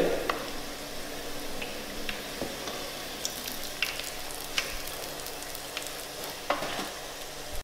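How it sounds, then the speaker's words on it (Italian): Cocoa cassatelle pastries, large and mini, sizzle while frying in hot oil, a continuous close crackle broken by sharp pops and stirring sounds, with no talking. "Ed ora andiamo a friggere."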